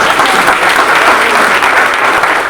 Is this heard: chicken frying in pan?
no